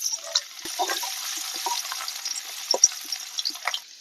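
Chopped garlic and ginger fry in a wok for chilli chicken, giving a steady, moderate sizzle with occasional sharper crackles and stirring sounds throughout.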